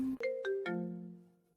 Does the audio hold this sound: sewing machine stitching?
no